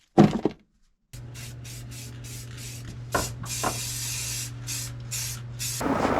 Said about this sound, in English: If you've ever needed to remove sound material off the floor, one of these oscillating tools is perfect